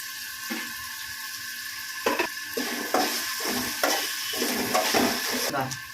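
Ginger, garlic, green chilies and onion frying in a pan, a steady close sizzle broken by repeated scraping stirs of a spoon against the pan, with no talk.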